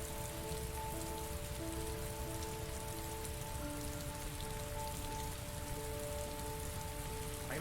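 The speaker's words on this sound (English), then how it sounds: "Oh, it's still raining. Quite heavy." Heavy rain pours steadily in the video game Heavy Rain, a dense, even hiss of raindrops on surfaces that stays constant throughout, with a faint sustained tonal hum underneath and no voices.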